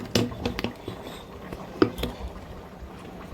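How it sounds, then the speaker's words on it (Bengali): Dishes being washed in a kitchen sink, with faint clinks of utensils and pots, soft splashing water and a few sharper knocks early on, fairly quiet and close. "আর এই সিঙ্কে এই বাসন কটা ছিল, এগুলো ক্লিন করে নিলাম।"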